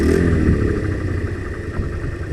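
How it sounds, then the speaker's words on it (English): An off-road motorcycle engine revs loudly up close, a sustained mid-pitched roar with rattling clatter, then settles back toward a throbbing idle. "Give it a rev."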